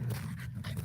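A French bulldog pants in quick, soft, breathy puffs by a campfire, close by and faint, lasting under a second with no talking.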